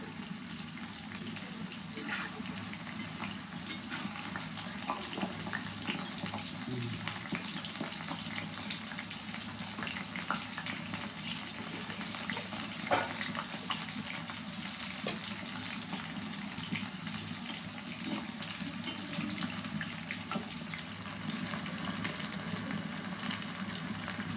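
Chicken pieces coated in cornflour and rice flour frying in oil for chilli chicken, a steady broadband crackle and bubbling that continues evenly throughout, close and moderately loud with no talk.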